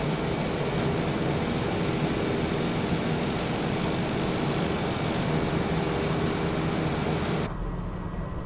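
A Lear Fan 2100 aircraft in Microsoft Flight Simulator 2020 comes in to land. Its engine drone is steady and loud, a broadband turbine-propeller roar that holds almost unchanged, then shifts and drops slightly just before the end.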